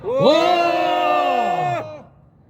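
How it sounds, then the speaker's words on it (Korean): A brief rousing shout goes up at an outdoor press conference, one loud sustained cry lasting about two seconds before cutting off abruptly, with no speech over it. "우리 모두 격한 함성 힘차게 발언을 외쳐주시기 바랍니다."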